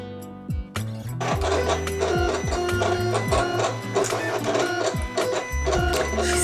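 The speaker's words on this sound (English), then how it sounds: "Time to put it through the cutting machine." Electronic craft cutting machine working through craft material, a continuous close motorized whir with repeated rising and falling stepper tones and rhythmic mechanical chatter, no speech.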